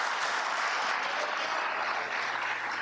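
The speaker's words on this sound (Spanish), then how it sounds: "Démosle un aplauso al Señor." Church congregation applauding during a Spanish-language worship service, a dense, even wash of clapping at close range that holds steady without pause.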